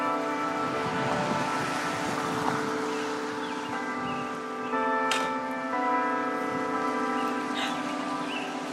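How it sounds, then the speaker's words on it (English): Church bells ring at noon with sustained, overlapping tolls that hang and decay in the air, steady at moderate loudness with no talking. "The church bell."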